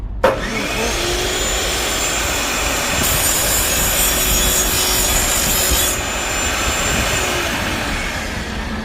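A continuous, loud rasping cut runs steadily for several seconds, with a constant whirring hum underneath, like a power saw cutting close by during greenhouse pipe construction.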